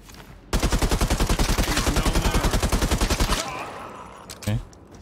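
Rapid automatic gunfire in the shooter game Caliber, a fast rhythmic burst of around three seconds, then a short pause and one more loud shot.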